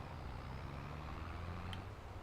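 Tractor engine in Farming Simulator 22, a low steady drone shifting gears, faint and continuous with a brief high blip near the end, no voices.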